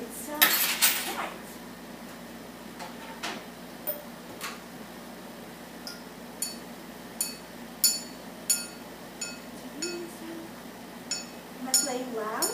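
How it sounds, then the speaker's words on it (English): A glass is tapped repeatedly, giving a series of soft, bright clinks spaced about a second apart, quiet and close, with an initial louder rattle at the start. "You can make a sound with a glass."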